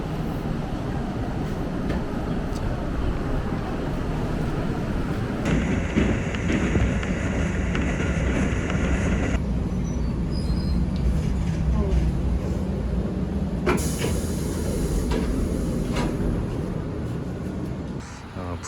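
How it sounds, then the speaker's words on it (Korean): Ride aboard a small local train bound for Busshozan station in Takamatsu, a continuous loud rumble and rattle of wheels and a swaying carriage running the whole time, with people talking faintly over it. "이 기차가 생각보다 속도가 빨라서 엄청 흔들리고"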